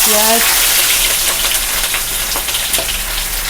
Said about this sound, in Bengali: তেল গরম হয়ে গেছে, এখন দিয়ে দেবো একটু জিরা